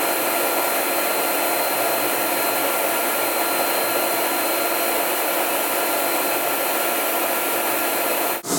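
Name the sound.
Versa Spa tanning booth air-drying blower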